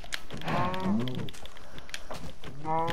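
Cows moo in Minecraft, two drawn-out lowing calls near the start and another at the end, close and clear over a steady background hum with faint clicks.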